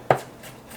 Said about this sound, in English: Roughly chopped.